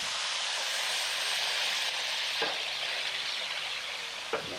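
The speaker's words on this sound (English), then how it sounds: "And we're gonna go ahead and get some oil on here. We're gonna do this meat." Beef fajita meat sizzles in oil on a Napoleon Rogue XT 425 plancha griddle, a close, even hiss broken by a couple of short scrapes or stirs, with no voices.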